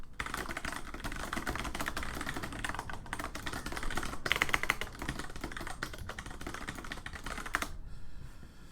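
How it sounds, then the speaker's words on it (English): Steady run of computer keyboard keystrokes as a message is typed, close and continuous, stopping abruptly near the end with no voices. "I'm just typing a message to my fiancé."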